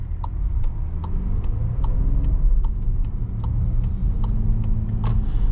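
A 2023 VW Atlas Cross Sport SE with the V6 engine drones steadily from inside the cabin while driving, with low road rumble and faint rhythmic ticking throughout.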